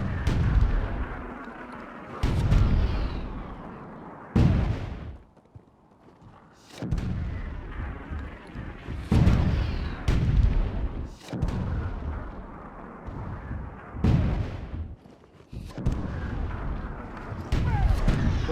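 Heavy booming artillery and gunfire in the fantasy battle game Myth 2: Soulblighter, a series of loud deep blasts with brief gaps between them, each trailing off in rumble.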